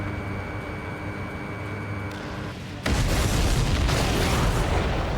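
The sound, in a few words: explosion of supply ship in video game Ace Combat 7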